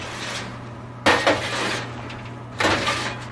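Popcorn kernels are sifted across the grate of a Mach5 popcorn machine, giving two short bursts of rattling and clattering over a low steady motor hum.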